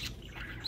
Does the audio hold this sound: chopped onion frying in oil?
no